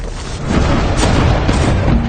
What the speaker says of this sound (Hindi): महमद के तोपखाने के लोग लगातार कॉन्स्टेंटिनोपल की दीवारों पर गोले बरसा रहे थे।